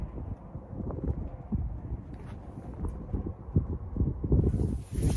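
Strong outdoor wind buffets the microphone in low rumbling gusts. It is steady and uneven throughout, with a few faint clicks and rustles.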